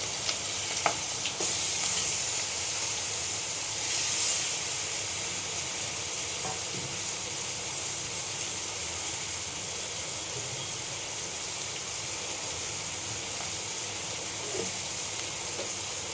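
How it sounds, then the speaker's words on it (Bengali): Boiled taro leaves sizzle in a pan, a steady soft hiss of frying with faint stirring scrapes throughout, fairly quiet and without talk. "আমাদের যে সিদ্ধ করা যে কচুর শাকটা ছিল সেইগুলো দিয়ে দেবো।"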